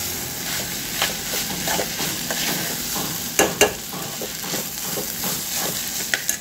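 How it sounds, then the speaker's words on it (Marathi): Rice for jackfruit biryani sautéed over high heat gives a steady frying sizzle, with occasional sharp scrapes and knocks of a spoon against the pot. "इथे मी आता तांदूळ छान परतून घेतलेला आहे."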